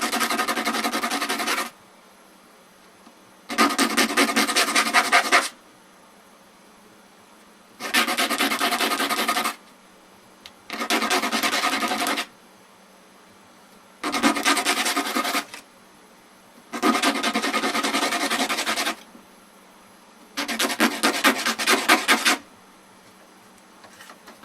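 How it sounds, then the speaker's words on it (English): Rough edges sanded by hand with sandpaper in seven long bursts of steady scratchy rasping, each a couple of seconds long and separated by short silences, close and fairly loud. "that's why you need your sandpaper. Just sand off the edges and make it look good."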